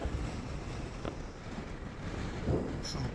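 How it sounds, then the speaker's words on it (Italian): Steady, fairly quiet wind rumbles and buffets against the microphone on a Sardinian coast, with faint water or wave wash in the background and no talking. "C'è su un sacco di vento."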